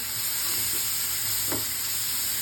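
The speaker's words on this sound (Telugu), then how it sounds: "ఇప్పుడు ఇవన్నీ బాగా పచ్చి వాసన పోయే వరకు వేయించుకోవాలి" Masala with coconut and garam masala fries in a pan for a Rayalaseema-style egg curry, giving a steady close sizzle with a soft stirring scrape partway through.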